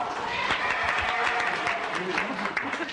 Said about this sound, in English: why are you applauding a Pullman car?